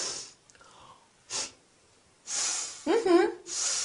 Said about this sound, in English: How do I show disapproval? Easy. You sniff.